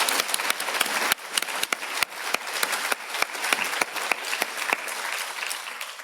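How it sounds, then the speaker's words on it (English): Applause from an audience at an animal welfare event, a steady wash of many hands clapping with a few sharper individual claps standing out, fairly close and continuous throughout. "So this is already also an applause for you"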